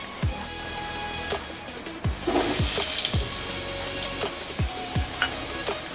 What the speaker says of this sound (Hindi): अभी हम आलू को थोड़ा सा शैलो फ्राई कर लेंगे